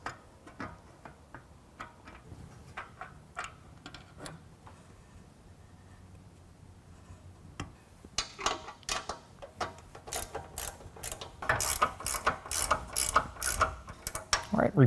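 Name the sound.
ratchet tightening nuts on Go Rhino roof rack brackets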